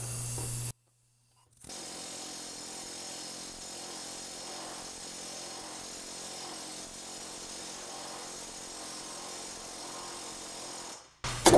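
A steady, rapid mechanical hammering drone, loud and continuous, like a planishing hammer working sheet metal, with a brief pause near the start.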